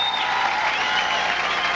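Fans at the 1993 PBA Rochester Open bowling championship applauding and cheering, a dense steady wash of clapping from a large indoor crowd with no clear voices.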